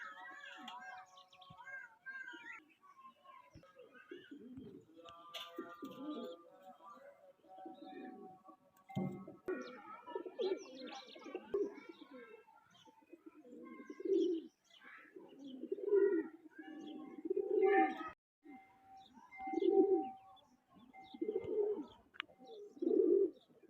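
Breeder pigeons coo nearby in repeated soft, low, rolling calls that grow clearer and louder toward the end, with faint chirps and scattered background noises mixed in.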